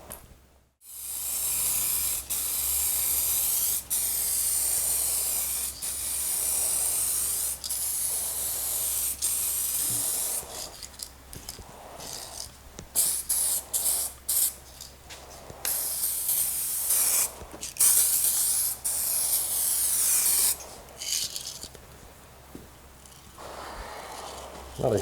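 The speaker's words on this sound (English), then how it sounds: "Not a huge fan of how this spray nozzle kind of has a tendency to spit and sputter every now and then." A spray nozzle hisses in long continuous bursts on a 1972 Honda CB450 cafe racer motorcycle project, cutting in and out and sometimes spitting and sputtering irregularly, loud and close.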